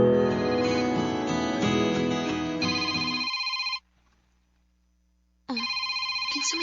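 A telephone rings indoors with a bright, repeating electronic ringtone that sounds loudly, stops for a short silent gap, then starts again.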